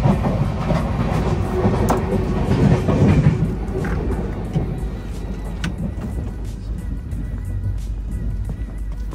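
Interior of an overnight train travelling through India: a steady, loud low rumble of the carriage with faint rattling and clatter, continuous throughout with no talk.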